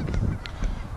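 Canada geese honk in a short burst, several loud nasal calls overlapping close by during nesting season amid late ice.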